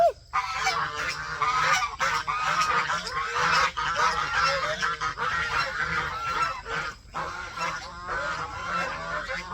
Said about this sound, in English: Turkeys and geese living together in harmony.